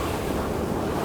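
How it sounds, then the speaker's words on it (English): Strong wind gusts roar across an abandoned farm with a mid-1800s barn, a loud, steady blustery rush buffeting the microphone throughout. "The wind today is pretty crazy"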